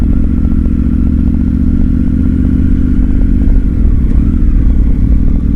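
A Triumph Tiger 900 Rally Pro adventure motorcycle with a 21-inch front wheel, riding and turning tightly. The engine makes a loud, steady, close drone, with a slight change in pitch partway through as it turns. No one speaks.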